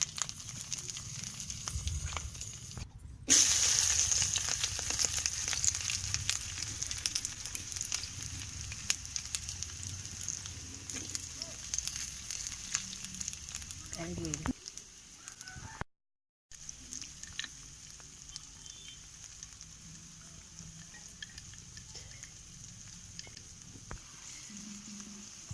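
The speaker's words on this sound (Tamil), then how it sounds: "எண்ணெயில் விட்டு வதக்க போகிறேன்." Pirandai (adamant creeper) and chillies fry in hot oil in a pan, giving a soft, steady sizzle that crackles faintly and continuously at low volume.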